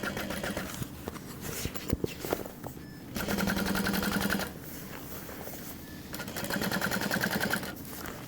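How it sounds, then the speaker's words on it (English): Sewing machine top stitching a seam on the vinyl accent of a tote bag, running in steady rapid bursts with short pauses and handling noises in between, close and fairly loud. "Pressing that seam down, top stitching on the vinyl accent down here."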